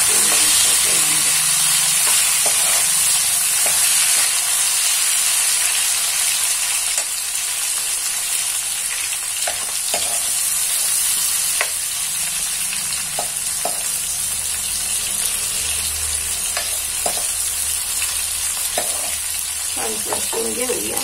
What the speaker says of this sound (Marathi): आता आपण याच्यात घालत आहे पातीचा कांदा आणि टमाटा। हे छान आपल्याला खरं परतून घ्यायचं।